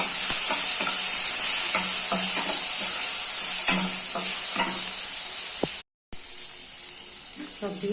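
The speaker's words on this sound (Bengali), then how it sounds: "সব দিয়ে ভাজা ভাজা করছিলাম।" Vegetables frying in a pan with salt, turmeric, sugar and ginger, a continuous close sizzle broken by repeated scraping stirs and clinks, with a momentary gap near the end.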